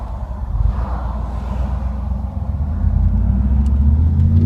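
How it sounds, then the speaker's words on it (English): A 1994 Pontiac Firebird Trans Am pulls away on a road, its engine a loud, close, steady low rumble that rises slightly as it gains speed. "I'll take off not too fast, and you can see how it shifts and how it runs out."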